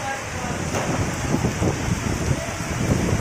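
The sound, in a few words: first monsoon rain and wind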